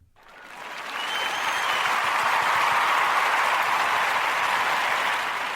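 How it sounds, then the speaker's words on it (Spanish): A crowd bursts into applause after a talk, the clapping swelling quickly from silence to a full, dense roar and holding loud before easing slightly at the end. "Vamos a darnos un aplauso"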